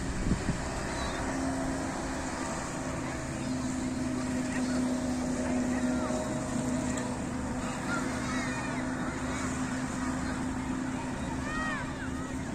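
A banana boat ride on the sea off a beach in Hurghada, Egypt, with a steady engine drone and splashing water that runs the whole time under wind noise, alongside beach ambience and faint background voices.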